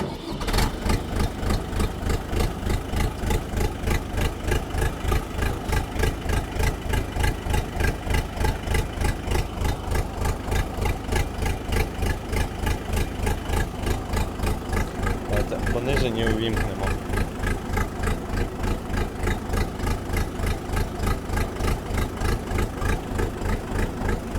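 A Kentavr 504F tractor's diesel engine runs close and loud throughout, with a steady, evenly pulsing idle chug that stays constant apart from a brief change partway through. Voices are heard faintly under the engine.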